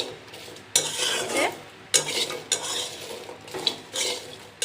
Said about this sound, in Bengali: আমি হাই হিটে দিয়ে ভালো করে মিষ্টিগুলো ভেজে নিচ্ছি